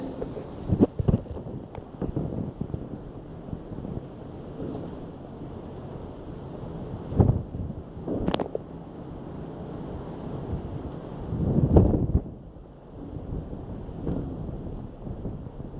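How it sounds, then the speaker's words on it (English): Storm wind blows in gusts past parked vehicles, a low rumbling buffeting on the microphone that swells and fades, with several louder blasts and thumps scattered through and no one talking. "You can see the wind just blowing through there."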